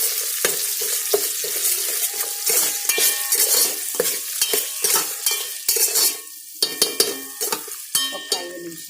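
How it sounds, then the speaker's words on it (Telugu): Ginger garlic paste frying in oil for chicken biryani, stirred with a utensil: a bright crackling sizzle runs throughout, punctuated by regular scraping and clinking strokes against the pot, close and fairly loud. "అల్లం వెల్లుల్లి పేస్ట్ వేస్తున్నాను. నెక్స్ట్ ఇవన్నీ వేసి కలపాలి."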